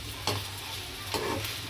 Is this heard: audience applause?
no